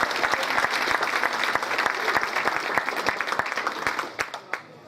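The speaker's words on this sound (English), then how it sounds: "How about an applause to that?" Audience applause at a Jefferson Jackson Day opening ceremony on Cape Cod: brisk, dense clapping from a crowd that holds steady for about four seconds, then thins to a few scattered claps before fading out.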